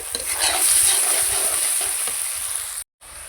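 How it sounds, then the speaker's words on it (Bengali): Onions fry in a pan, browning before spices and meat go in for a biryani: a steady close hiss with soft stirring scrapes, then cutting off abruptly near the end before resuming briefly. "পেঁয়াজগুলো আমি লাল করে ভেজে নিচ্ছি।"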